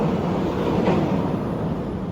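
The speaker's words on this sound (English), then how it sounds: "That must be the train." A steady low rumble of a train rolling by in downtown Rio de Janeiro, continuous and fairly loud with broad noise throughout.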